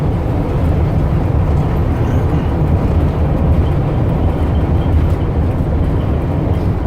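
A 2005 Ford E350 wheelchair van with 201K miles driving along, its steady engine and road rumble droning continuously from inside the cabin, with no talk.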